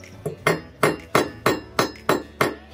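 A hammer strikes a tool to seat a new handle, giving eight sharp, evenly spaced knocks at a steady rhythm, close and loud with a slight metallic ring, and no talking.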